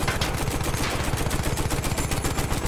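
Video game gunfire, a loud, continuous stream of rapid automatic shots with a steady rhythm, close and unbroken throughout.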